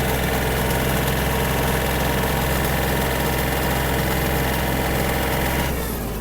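Yanmar AF-26 Japanese mini tractor engine running steadily while the machine turns, a loud close continuous idle-like drone with a low mechanical rumble throughout.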